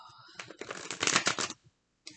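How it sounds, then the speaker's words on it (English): Tarot cards being shuffled by hand: a quick burst of dense papery riffling for about a second, close and fairly soft, followed by a faint tap and a brief snap. "And one more shuffle."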